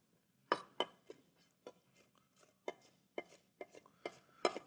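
Knife dicing bell peppers on a cutting board, a series of quiet, crisp chops at an uneven rhythm, close by with no talking.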